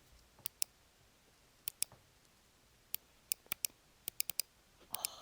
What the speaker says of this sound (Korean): 매직 마우스는 딸깍 소리조차